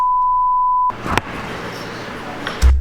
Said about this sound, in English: That's one way to get the beeps.